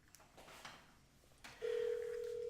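A telephone rings with a steady electronic tone that starts partway through and holds to the end, following faint rustling and room noise.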